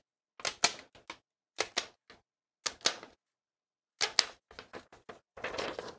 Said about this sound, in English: take a regular sheet of paper, a trusty hole punch